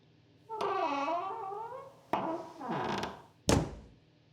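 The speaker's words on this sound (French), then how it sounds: "Il sursauta en entendant la porte se refermer." A door slowly creaks open with a long, wavering groan, creaks again, then shuts with a sharp thud, close and clear with no voices.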